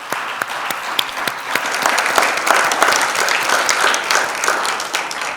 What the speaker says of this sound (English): I think she deserves a round of applause for what she's doing.